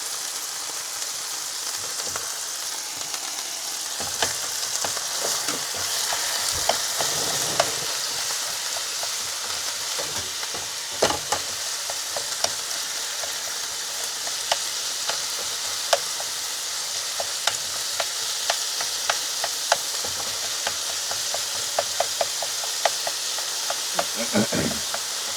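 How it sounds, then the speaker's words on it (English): Mince frying in a hot pan during camper-van cooking, a constant crackling sizzle with sharp spatters and intermittent stirring scrapes, no voices. "With mince, you see, with mince, right, don't keep stirring because it turns into mush."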